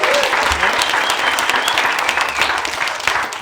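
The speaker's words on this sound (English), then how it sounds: "Let's give Adam a round of applause," Audience members at a Southern Vermont economy summit give a round of applause, steady, dense clapping throughout that stays fairly loud from start to finish.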